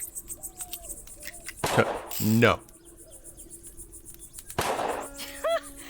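A few sharp, loud bursts of video-game gunfire ring out between faint electronic tones and small beeps, with quiet stretches between the shots.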